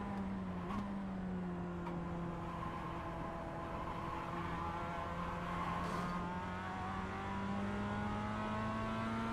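Mazda MX-5 engine droning steadily at night on the Nürburgring in iRacing, a continuous close hum with slowly rising and falling pitch through gear changes, alone without talk.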